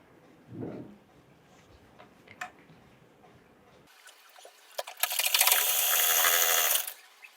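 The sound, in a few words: sewing machine stitching jumpsuit hip seam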